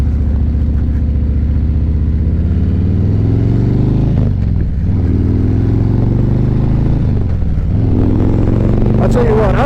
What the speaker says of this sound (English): I don't ride this Road King very often, but I really do like this bike